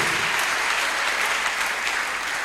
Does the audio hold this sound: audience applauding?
yes